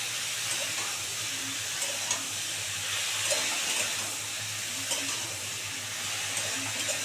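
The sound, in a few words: stirring milk and bottle gourd in a cooking pot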